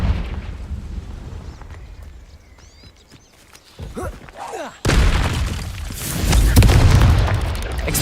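A Confringo blasting spell explodes in the Hogwarts Legacy video game, a loud booming burst that erupts midway and rumbles on amid game noise, following a quieter stretch of ambient sound.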